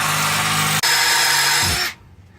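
A power drill bores into a broken easy out stuck in an exhaust stud on a Nissan 300ZX, giving a steady high whine with a brief catch partway through, then winding down to stop near the end.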